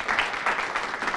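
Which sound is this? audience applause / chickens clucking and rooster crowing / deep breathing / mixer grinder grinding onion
audience applause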